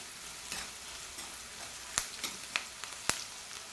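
Onions with salt and turmeric fry in a pan while a spoon stirs them, giving a soft steady sizzle broken by several crisp scraping clicks against the pan; close, no voices.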